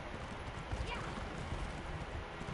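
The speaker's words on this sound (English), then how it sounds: "Ember, in order to race, we can't be on the same horse." Horse hooves clip-clopping at a gallop in the Elder Scrolls Online video game, a faint, steady rhythmic patter beneath quiet game ambience.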